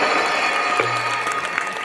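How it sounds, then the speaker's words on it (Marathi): Audience clapping at a Home Minister comedy game show event in Chik Mahud, a steady wash of applause throughout with a brief low hum partway. "वहिनीसाठी जोरदार टाळ्या वाजा."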